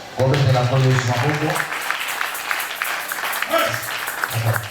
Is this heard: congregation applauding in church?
yes